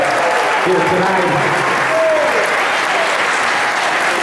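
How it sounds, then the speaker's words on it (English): Wedding guests applaud after the couple's first dance, a loud continuous wash of clapping from a crowd with some voices and cheers mixed in. "How about a round of applause?"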